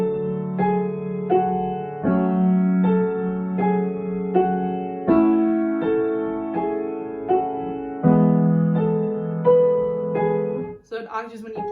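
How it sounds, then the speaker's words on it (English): Piano tune from a song, played in octaves with both hands, steady sustained chords and melody notes ringing clearly alone, ending with a brief rustle. "So an octave is when you play those at the same time,"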